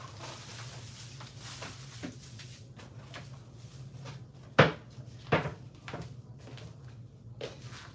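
A drawer or cupboard opened and closed in a quiet room, two sharp wooden knocks close together near the middle, with faint handling rustle around them and a low steady hum underneath.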